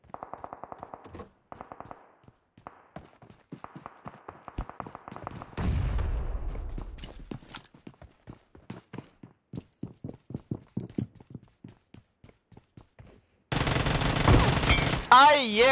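Gunfire from PUBG Mobile, the battle royale shooter: a loud, close burst of rapid shots, sporadic single cracks before and after, then a dense noisy volley at the end.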